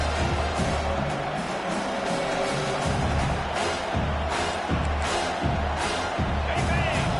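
Home crowd noise at a Clemson college football game, a steady loud roar of thousands of fans swelling in waves on a third down, with no clear talk over it.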